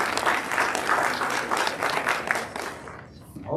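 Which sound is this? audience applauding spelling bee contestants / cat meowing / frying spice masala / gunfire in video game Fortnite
audience applauding spelling bee contestants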